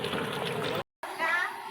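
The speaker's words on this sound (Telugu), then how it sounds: "నీళ్ళు పోసుకున్నాము." Water is poured into a large pot to cook the rice for a 10 kg chicken dum biryani, a short steady splashing stream that cuts off briefly and then resumes.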